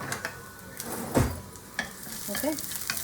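Garlic frying in a hot pan gives a bright, close sizzle broken by a few stirring scrapes and one heavier clunk, with no voices over it.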